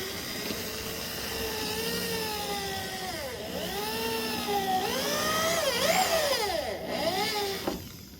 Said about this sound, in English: We're gonna drill right where one of the old staples was.